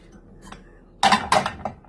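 Dirty metal teapot and kettle being handled, giving a few clanking metallic knocks and rattles in two quick bursts followed by a lighter tap, close by with no talking.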